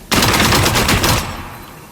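A loud, close burst of rapid gunfire in the video game Gunsmith Simulator, lasting about a second and then tailing off into a short echo, with no voices.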